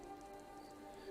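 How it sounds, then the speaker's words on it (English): Rain in the video game Skyrim, a steady soft patter of drops on surfaces, faint and continuous for about a second with no talk. "Oh, it's raining."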